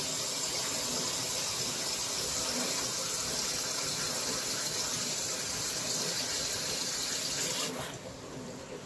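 Tap water pouring steadily into a container of rice, a loud continuous gushing rush lasting nearly nine seconds before tapering off at the end, no talking.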